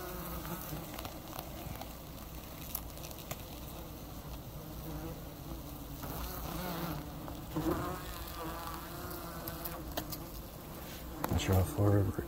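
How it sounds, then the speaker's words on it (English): Yellow jacket wasps by the thousands swarm a huge nest hidden in insulation, filling the air with a steady, dense, close buzzing that never lets up, with a few louder thumps and rustles near the end. "exposing the incredible nest and the thousands of adult wasps"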